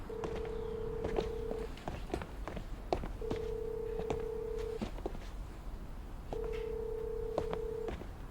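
Several quick telephone keypad tones, then repeated steady busy-signal beeps in three evenly spaced bursts, heard close over a faint background hiss.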